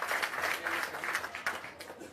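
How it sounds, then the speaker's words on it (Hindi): Faint, steady clapping from an audience at a Jan Suraaj meeting, a soft continuous patter of many hands heard from a distance. "एक बार जोरदार ताली आप अपने इस प्रयास के लिए लगा लीजिए।"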